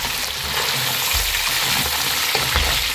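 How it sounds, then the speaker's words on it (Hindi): Three slit green chillies and a spoonful of cumin hit hot oil for a chicken karahi, a loud close sizzle and crackle with faint stirring knocks and no talking. "ये मैं 3 हरी मिर्चों में ऐसे कट लगा लिए हैं, ये डाल रही हूँ। और भर के 1 चम्मच ज़ीरा"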